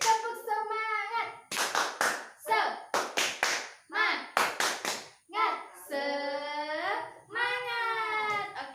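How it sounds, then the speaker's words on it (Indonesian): Schoolchildren in a primary classroom do rhythmic spirit clapping, sharp bursts of claps in patterned groups mixed with children's chanting voices, close and lively. "Oke, tepuk semangat lagi yuk. Tepuk semangat."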